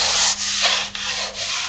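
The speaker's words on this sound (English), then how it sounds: "you keep sanding until whatever's on top of that wood is gone" Hand sanding of balsa wood sheeting laid over a foam wing gives close, loud, continuous rasping strokes, with about four back-and-forth passes and no voices.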